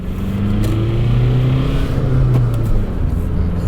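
A 2003 VW Jetta TDI turbo diesel car pulls away under acceleration, its engine drone loud and close with a rising tone as it gets moving.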